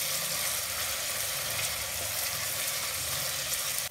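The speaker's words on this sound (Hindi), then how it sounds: "प्याज सॉफ्ट होने तक फ्राई करूंगी।" Onions sizzle in a pan as they fry until soft, a steady, dense hiss that holds evenly throughout, close and fairly loud, with no voices over it.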